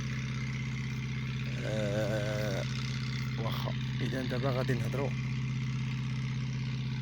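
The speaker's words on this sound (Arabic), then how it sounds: "كاين شويه د الريح وكاين حتى الموتور خدام ليه" A motor runs steadily at idle with a low, constant hum and a faint breath of wind, while a person talks briefly over it.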